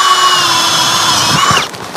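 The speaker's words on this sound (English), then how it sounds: "after I drill a couple more holes here" A power drill bores holes during a killer bee removal job, a loud, close, steady whine holding for over a second before winding down with a few brief knocks.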